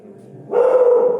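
A dog gives one short, loud, close bark that rises out of a low rumble.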